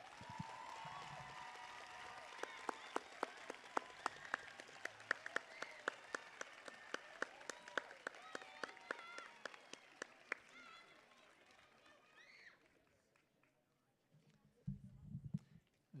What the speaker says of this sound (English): Let's give our 8th graders one big round of applause